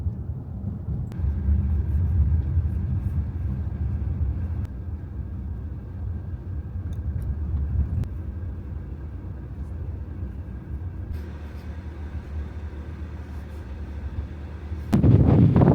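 A car drives along a coastal road through Brancaster in Norfolk, giving a steady low engine and road rumble from inside, with a sudden louder burst of noise near the end.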